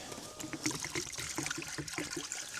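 Water is poured into a farm animal's water container in freezing winter weather, making a steady close trickle and splash that runs continuously for a few seconds with no talk over it.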